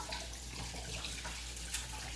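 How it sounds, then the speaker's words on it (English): A kitchen tap runs in a steady, faint hiss of water while hands are washed beneath it, with no one talking. "Daddy will wash his hands."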